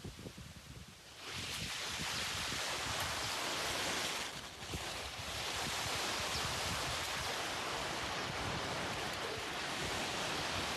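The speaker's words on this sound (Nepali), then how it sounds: "एकदम हावा पानी हुन्डरी चल्न थाले यहाँ चाहिँ।" A strong windstorm roars through a village of large houses, a loud, steady broadband rush of gusting air buffeting the microphone, rising sharply after the first second and sustained throughout with no voices.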